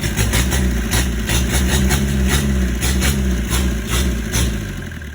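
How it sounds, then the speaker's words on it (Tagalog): A 4DR5 camelback diesel engine in good condition idles steadily, loud and close, with a heavy low rumble and regular pulsing knock throughout. "Ay, ganda ng makina boss"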